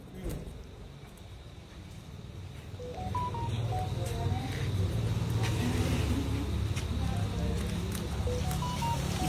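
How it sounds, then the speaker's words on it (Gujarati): A phone number being dialed in an electricity company office, a series of short electronic keypad tones under constant traffic and engine noise, with people talking nearby. "ઊભી રે જયશીલભાઈને ફોન કરું"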